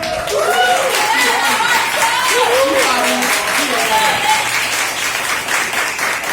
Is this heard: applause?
yes